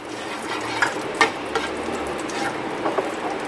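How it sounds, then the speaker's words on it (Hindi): Semolina roasting in desi ghee in a pan gives a steady soft sizzle. Occasional scrapes and taps of stirring sound close by. "अब सबसे पहले हम सूजी को देसी घी डाल के फ्राई करेंगे, यानी रोस्ट करेंगे।"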